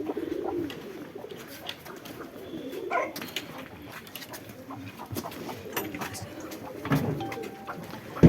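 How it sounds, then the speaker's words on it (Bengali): Many Pakistani pigeons coo at a crowded pigeon farm, a soft low murmur running steadily through the clip with a few clicks and brief louder bumps, and no one speaking. "অসংখ্য পরিমাণে কবুতর এখানে আমরা দেখতে পাচ্ছি প্রচুর পরিমাণে কবুতর এবং এগুলা বেশিরভাগই সবই পাকিস্তানি"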